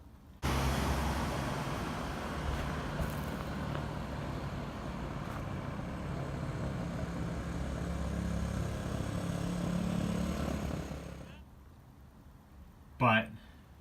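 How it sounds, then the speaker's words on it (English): A 1969 Honda CL90 motorcycle engine running, a broad steady rumble that holds for about eleven seconds and then drops away, followed by a brief sharp noise near the end. "the engine runs pretty well overall."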